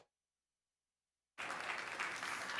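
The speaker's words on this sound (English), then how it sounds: "Let's give them a nice round of applause" A fair audience bursts into steady applause after a market swine show at a state fair, the clapping starting abruptly after a moment of silence and filling the rest of the moment at even volume.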